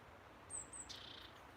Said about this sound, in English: there's a little bird right above us.